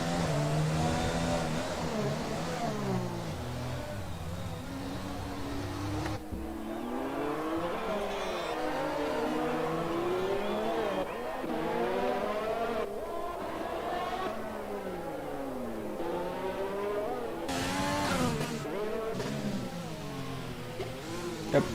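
Formula 1 race car engines from the F1 2020 video game at Monaco, high revving whine rising and falling through gear changes, continuous and fairly loud with overlapping cars and occasional tire squeal.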